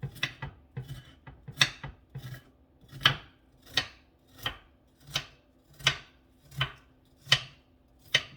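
A knife chops through an onion on a cutting board in a regular rhythm of about a dozen crisp, close strokes, each a sharp knock with short gaps between them.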